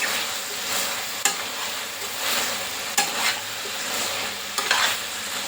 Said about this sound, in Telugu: మధ్య మధ్యలో కలుపుకోవాలండి